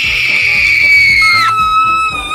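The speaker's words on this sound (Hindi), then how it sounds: "एक फीमेल की चिल्लाने की आवाज" A woman lets out one long, high, sustained scream that slides downward midway and carries on over a steady rhythmic music bed.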